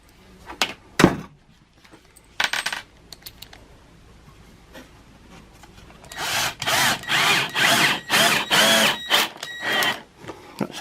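Screws are driven into a bamboo audio diffuser with a power drill: a few short, sharp bursts early on, then a run of loud, rhythmic whirring drill pulses close by, with no talking.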